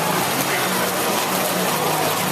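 A hailstorm at an Iowa Cubs baseball stadium, with hailstones the size of golf balls pelting down: a loud, steady, dense roar of clattering impacts with no break.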